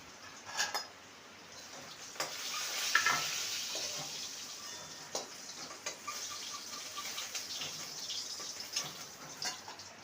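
Soft, continuous sizzle of potatoes frying in hot oil, with scattered clinks and scraping of a utensil against the pan, no voices.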